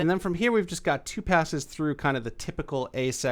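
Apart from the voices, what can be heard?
None of the usual background noises is heard.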